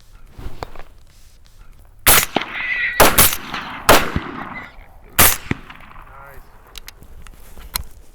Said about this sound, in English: Good shooting.